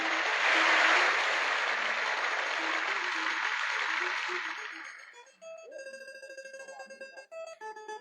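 An audience claps to welcome a female singer at a northern Thai traditional saw performance. The broad, steady applause fades after about five seconds as plucked and bowed instrument notes take over.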